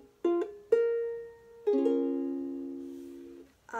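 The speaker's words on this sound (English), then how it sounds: "Your ukulele should sound like this." A ukulele tuned up a whole step is plucked and strummed, first a few single notes and then a ringing strum that sustains and fades, heard close and quiet in a still room without speech.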